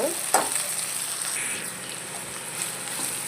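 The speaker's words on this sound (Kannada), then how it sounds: "ನೋಡಿ ಈರುಳ್ಳಿ ಫ್ರೈ ಆಗ್ತಾ ಇದೆ" Chopped onions fry in a pan for a flat-bean palya, making a close, continuous crackling sizzle with a few louder spits and stirring sounds, and no one speaks.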